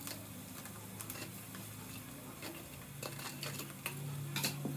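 Mustard seeds and onions stirred in a pan for tomato gojju: quiet, irregular scraping and clinking of a utensil against the pan over a steady sizzle, with brief sharp taps throughout.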